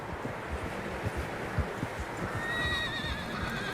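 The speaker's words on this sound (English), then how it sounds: "Horses, quite a few of them." Horses neigh and whinny in the snowy wilds of Red Dead Redemption 2, the calls drawn out and wavering over low wind and scattered hoof clops, moderately distant and without talk.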